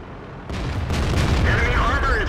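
A heavy tank cannon in World of Tanks, in a match between a Japanese heavy tank and a British heavy tank, fires with a sudden loud boom that rolls into sustained rumbling, while a radio-style voice talks over it.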